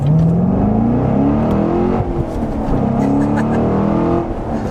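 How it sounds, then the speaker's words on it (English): A 2014 Chevrolet Corvette with a manual gearbox revs and accelerates up through the gears on a back road, a loud, rising drone heard from inside, with a brief dip at a shift. "let's turn down onto this back road here and see how it accelerates"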